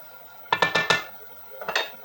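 A spoon knocks and scrapes against a pot while onions and pepper are turned together for okra soup: a quick run of four clanks, a pause, then a few softer knocks.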